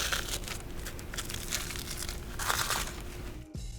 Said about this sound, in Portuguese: Isso cria um som sutil de fundo, que a equipe de Foley recriou congelando uma cabeça inteira de alface antes de descascar suas folhas.